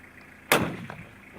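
A single rifle test shot cracks out sharply on a cold morning in the mountains of Zhob, Pakistan. It is close and loud, followed by a brief fading echo, with no talking.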